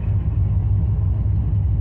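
A car fitted with a Summit Racing Max Performance carburetor and a hydraulic clutch rumbles in a low, steady engine drone, loud and close, with no clear rev change during a slow gear shift.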